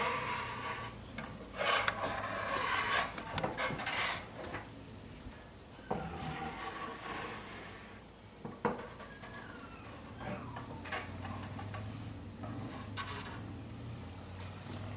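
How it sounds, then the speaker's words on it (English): 1/8 by 1/8 square notch trowel spreading black and silver metallic epoxy across a countertop sample, close scraping and rasping strokes that rise and fade at an uneven pace. "Then we will trowel this out with 1/8 by 1/8 square notch trowel."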